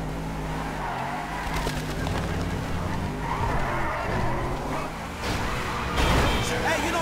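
In Grand Theft Auto 5, a car drives with a low engine drone and squealing tires skidding across the road, mixed with game dialogue and a thump near the end.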